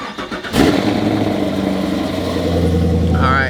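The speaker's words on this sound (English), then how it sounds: "let's go ahead and start the video off with the cold start" Cold start of a supercharged car engine: a brief starter crank, then the engine catches with a loud burst and settles into a steady, close, rumbling idle, with a faint whine near the end.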